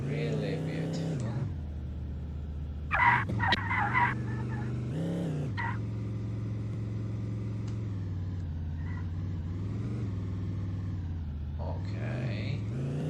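A big rig truck engine in a Unity vehicle physics demo gives a steady low engine drone with some revving swells, heard near and continuous while people talk over it.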